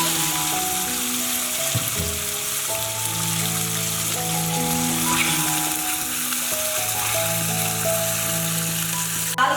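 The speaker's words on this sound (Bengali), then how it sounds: "আর একটু নুন আর একটু হলুদ দিয়ে দিলাম এবার তেলে মোড়লা মাছ" Small mourola fish seasoned with salt and turmeric frying in hot oil, producing a loud, continuous close sizzle with a dense crackle throughout and occasional clinks, with no voices.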